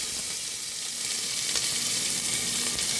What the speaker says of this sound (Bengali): এখন আমি পেঁয়াজ কুচিটাও দিয়ে দেবো এটার মধ্যে